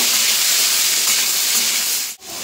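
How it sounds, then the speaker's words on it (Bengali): Spices being stirred into amla pickle in a hot pan, a steady close sizzle and scraping hiss that runs continuously, briefly dropping out near the end. "খুব সুন্দর করে কিন্তু এটা নেড়ে নেব"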